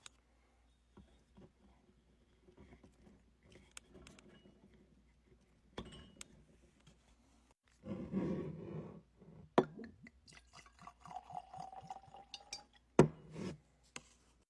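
Old Emmer cask strength whiskey bottle being opened and poured into a glass, with sparse clinks and taps, a soft cork pop, then a short burst of liquid pouring and glass clinks, close and quiet with no talking.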